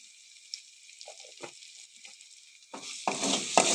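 Spices sautéing in a pan with fresh green chili and a little red chili powder, a faint sizzle at first with sparse stirring scrapes, then a louder, steady frying hiss.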